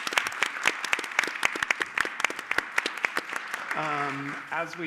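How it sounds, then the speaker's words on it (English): A lecture audience at a talk on land narratives and the just city gives a round of applause, a steady patter of distinct close claps that carries on for several seconds before a voice begins speaking near the end. "let's have a round of applause"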